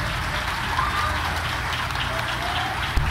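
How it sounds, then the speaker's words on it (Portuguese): Congregation at a church service led by a pastor applauding together, a steady dense wash of many hands clapping at an even level throughout, with a single sharp knock near the end. "Você pode aplaudir Jesus pela vida dele?"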